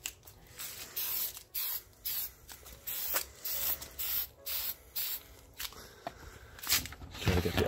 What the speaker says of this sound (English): All right, so it still sprays. So I'm just gonna spray the surface.